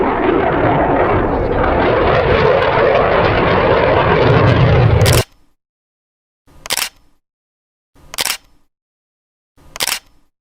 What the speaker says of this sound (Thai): เฮ้ยพี่มีเฮลิคอปเตอร์ด้วยอ่ะนู่นอ่ะ